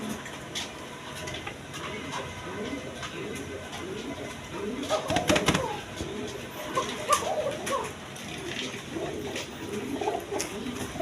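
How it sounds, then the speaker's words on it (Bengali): Three-striped red pigeons coo in a loft or market setting, a repeated soft throaty rolling coo carried through steady background noise, with a few louder rustles or flutters midway and faint voices around. "একদম তিন পট্টি লাল গিয়ার কোয়ালিটি সম্পন্ন কবুতর দেখেন"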